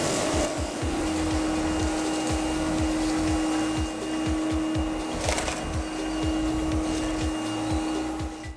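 A Makita 40V cordless backpack vacuum cleaner runs over a smooth floor with a steady motor whine and airflow hiss, loud and continuous throughout.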